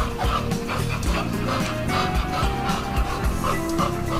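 Two dogs, one a dominant female, play together indoors with repeated close barks, yips and whimpers throughout, while people talk quietly underneath.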